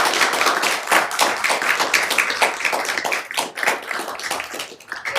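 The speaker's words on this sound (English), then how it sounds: "so how about a round of applause?" An audience at a panel event on Russia's invasion of Ukraine claps for the event organizer, a dense, loud round of applause from many hands that swells and slightly thins over several seconds.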